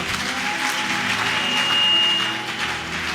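A church congregation applauding in praise, a sustained, even wash of clapping at moderate distance with no break, with a faint tone held above it.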